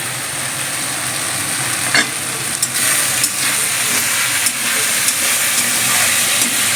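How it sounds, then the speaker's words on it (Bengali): Food fries hard over a high flame while it is stirred often, giving a loud, continuous hissing sizzle with scattered clinks and scrapes of the stirring utensil. "এবার একটু ভাজতে হবে, এটাকে একটু নাড়তে হবে ঘন ঘন"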